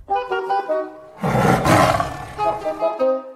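A big striped tiger roars loudly and close, a long rumbling growl swelling in the middle of the clip and fading out with no voices.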